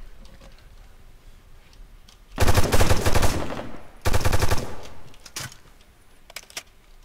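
Two loud bursts of rapid video-game gunfire from a TWL 3v3 match on the Shadowstep map, each lasting about a second, followed by a few fainter single shots.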